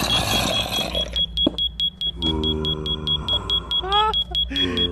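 A home fire alarm beeps in a steady, repeated high-pitched pattern, sounding loud and near while people talk over it.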